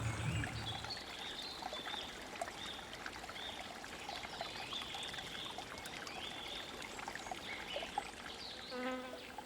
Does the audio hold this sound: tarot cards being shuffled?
no